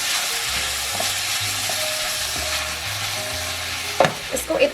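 Minced meat (qeema) fries with garlic and ginger in a pan, giving a continuous loud sizzle while a spoon stirs and scrapes, with a few sharper clinks near the end.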